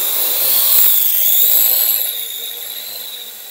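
A Parrot AR Drone quadcopter climbs with a high, whining rotor buzz that holds steady, then fades gradually as it rises away.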